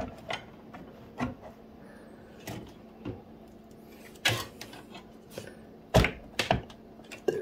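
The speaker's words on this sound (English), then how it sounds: "The only thing left to do now is insert the GPU" A Gigabyte Eagle RTX 4070 Ti graphics card being fitted into a PC: scattered sharp clicks, taps and knocks of handling, close and irregular, with no talk.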